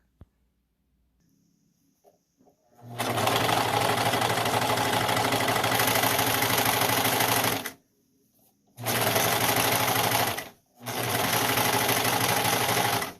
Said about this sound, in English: I do have a serger and I like how it looks, so I'll probably just go around real quick